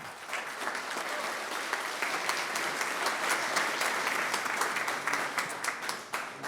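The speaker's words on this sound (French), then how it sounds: "Je vous demande de l'applaudir." An audience at a business breakfast applauds a club president, steady crowd clapping close and continuous throughout, tapering slightly at the end.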